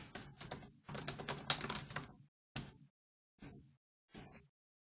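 Bursts of rapid key clacks on a computer keyboard while a photo caption in a motorcycle gallery is edited, a long flurry of typing followed by three short separate bursts, close and clear with no talk.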